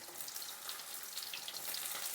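Chopped garlic hitting hot white oil in a pan, a soft, steady crackling sizzle with fine popping, fairly quiet and uninterrupted.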